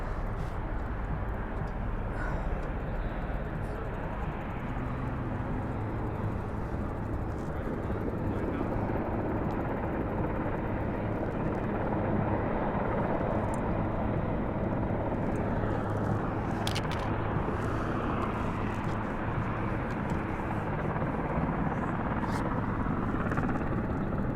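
The Marine One presidential helicopter at the White House makes a steady, rumbling drone that fills the whole stretch, continuous and fairly loud, with brief voices talking faintly underneath.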